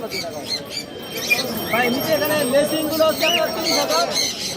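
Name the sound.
parrots squawking at a bird market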